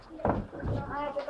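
A standalone old wooden door in a historic Swedish farm building is pulled open with a brief knock and thud, followed by people talking nearby.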